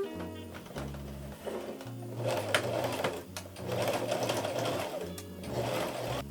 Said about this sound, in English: I'm gonna sew them down.